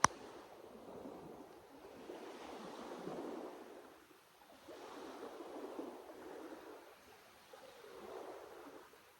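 Soft, distant beach surf rolls in gentle, swelling washes every few seconds, faint and airy, with light wind and no talk.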